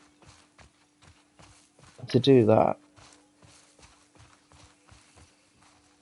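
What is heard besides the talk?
horse hooves clip-clopping in video game The Last of Us Part II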